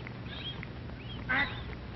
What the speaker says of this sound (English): Mother duck calls to her babies to follow her into the water.